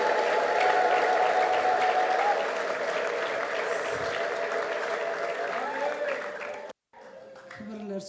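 A church congregation at a conference applauding, a dense sustained wash of clapping for several seconds that thins toward the end, with voices mixed in before a brief cut.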